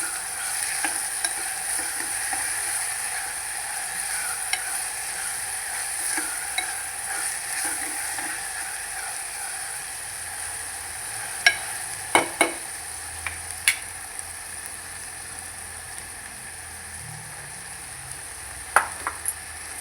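Onion and tomato sizzle and fry in a pressure cooker, with a steady, quiet hiss throughout and a few sharp clicks of stirring and utensil taps against the pot.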